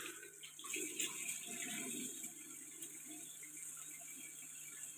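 Face being washed with soap made with alum stone under running water, a steady tap or sink splash with some rattling handling sounds, close and continuous with no talking.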